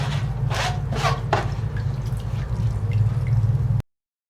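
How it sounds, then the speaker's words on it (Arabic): Strained roses squeezed by hand for homemade rose syrup, giving wet squishing and steady dripping of liquid close by, with a few sharper squeezes early before it cuts off abruptly. "الوردات اللي طلعوا بالمصفاية بعصرهم."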